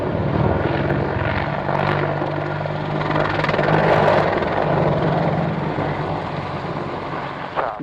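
An Apache helicopter comes in to land, its loud rotor and engine drone filling the air steadily and close throughout.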